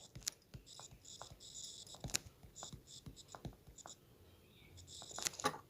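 A pen scratches across exam paper while working a maths problem, with quiet, close bursts of writing strokes and small taps, and soft breathing between.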